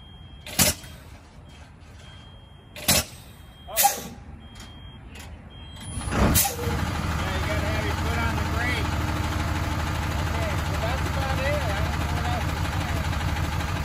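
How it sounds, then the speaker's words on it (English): A 2008 Peterbilt reefer truck's engine cranks after a few clicks and thumps, catches and settles into a steady, loud idle rumble that runs to the end. "I can start it one more time just to make sure it starts."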